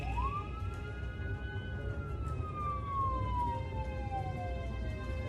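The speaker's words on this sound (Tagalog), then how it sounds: "mabilis na kumilos ang ambulansya" An ambulance siren wails in a single long rising then slowly falling sweep, fairly close and loud over a low traffic rumble.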